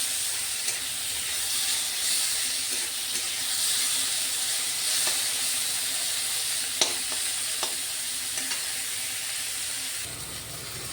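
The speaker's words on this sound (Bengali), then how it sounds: "এখন আমি মাছটা ভেজে নেব। মাছটাকে আমি সুন্দর করে ভেজে নেব।" Prawns fry in hot oil in a pan, a continuous close sizzle and crackle with a few sharper pops and spatters, heard on its own without talk.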